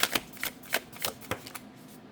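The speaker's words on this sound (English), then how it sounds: "I did some serious shuffling and this card just keeps coming out." Tarot cards are shuffled by hand in a quick series of soft riffling flicks and taps, close and fairly quiet, about eight irregular strokes.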